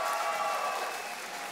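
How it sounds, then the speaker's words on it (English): Brief, fairly quiet applause from the audience at a Nintendo gaming championship event, a steady wash of clapping with no pause. "Give them a round of applause, guys."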